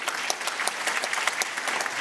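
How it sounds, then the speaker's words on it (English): Steady audience applause at an agricultural awards gala, many hands clapping in a dense, even patter that holds at a moderate level throughout. "Ladies and gentlemen, please give them another round of applause."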